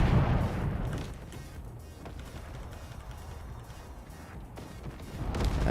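Massed cannon fire from ships in the naval strategy video game Forts, a dense rumbling barrage of overlapping booms and crashes that dips in the middle and swells again toward the end.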